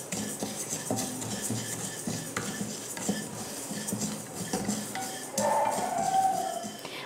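A spoon stirs and scrapes moong dal dry-roasting in a pan, quiet clinking and rattling of lentils against metal, steady and close.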